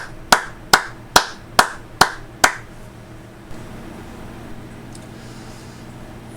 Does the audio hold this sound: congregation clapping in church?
yes